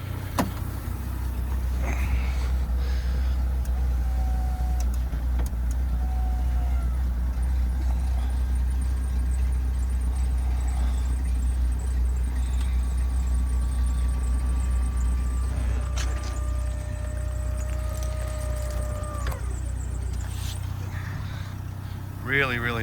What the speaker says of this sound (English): Let me put the convertible top up for you.